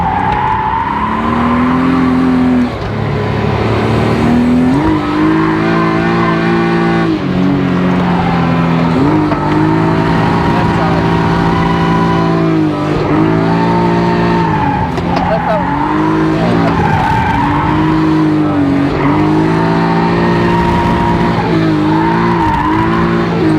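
A BMW E36 with a rebuilt, reinforced subframe drifts on a track, with a suspected fault on one side. The engine revs hard and loud without a break while tires squeal through repeated slides.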